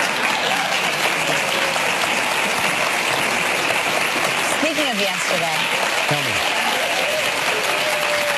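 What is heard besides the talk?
studio audience extended applause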